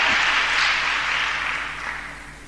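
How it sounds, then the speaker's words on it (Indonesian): Church congregation applauding during a sermon at a group leaders' meeting, a broad wash of clapping that starts loud and gradually fades over a couple of seconds, with no voices on top. "Tepuk tangan saudaraku"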